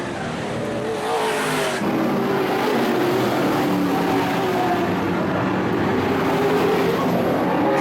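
Modified race cars run side by side around the Lakeport, California track, a loud, steady engine roar with shifting pitch and a whoosh as they pass, under a commentator's voice.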